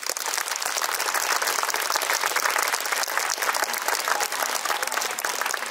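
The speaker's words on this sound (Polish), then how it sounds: "Wielkie brawa." An audience at an outdoor opera performance in Krościenko nad Dunajcem applauds steadily, with dense, even clapping throughout and a faint voice underneath.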